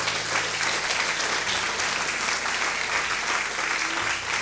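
A church congregation applauds the Lord in a full, sustained burst of clapping, loud and steady from start to finish, with a low hum lingering beneath.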